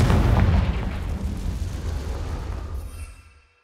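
A Confringo blasting spell explodes near an acromantula cave in Hogwarts Legacy: one deep, loud boom with a heavy low rumble that fades over about three seconds into silence.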